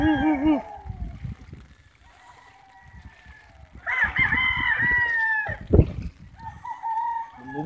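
Gamecocks caught in floodwaters during a typhoon crow in long, strained calls with some clucking, close by and loud, over a steady background wash of rushing water and wind.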